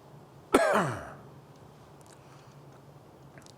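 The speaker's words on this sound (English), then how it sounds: "Just me clearing my throat" A single sharp throat clear bursts out close to the mic, a rough guttural rasp lasting about half a second that trails off into quiet room hiss, with a faint click at the very end.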